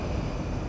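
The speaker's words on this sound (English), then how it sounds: "Step away from the platform edge when train is approaching." Train in the Star Citizen space game approaching a platform, a steady loud low rumble and rushing roar with no voices.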